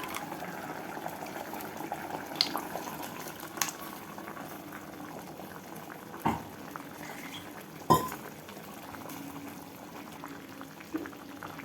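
Kovakkai kulambu mixture stirred in a pan over steady bubbling simmer, with occasional sharp clinks of a metal spoon against the pan; no talking.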